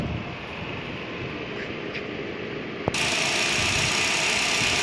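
A 1.0-litre petrol engine idling in a 2015 Kia Morning with a manual gearbox, a steady low hum that jumps to a louder, brighter running sound about three seconds in, with no talking.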